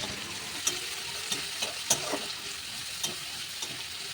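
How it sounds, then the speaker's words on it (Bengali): Onions and green chilies frying in a pan give a soft, steady sizzle, broken by a few faint clicks and scrapes of stirring, with no talking. "ভাজতে হবে যতক্ষণ না লাল হয়।"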